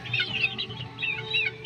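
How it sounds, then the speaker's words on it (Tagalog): Incubator-hatched chicks peep in a steady, high, overlapping chorus close by, with no talking. "Napakaganda ng mga sisiw namin dito."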